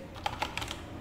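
A server IP address typed on a computer keyboard: four or five crisp key clicks spaced over about a second, close up against a faint steady background hiss.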